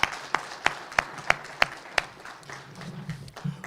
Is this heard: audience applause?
yes